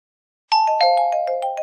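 A doorbell plays a quick chime melody of about eight clear, bright tones, loud and close after a moment of silence.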